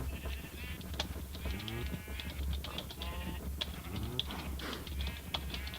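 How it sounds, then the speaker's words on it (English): Repeated sheep bleats on a Minecraft animal farm, several short wavering calls scattered over a soft background of clicks and a low hum, with no talking. "we also have a assorted cow farm, an assorted animal farm"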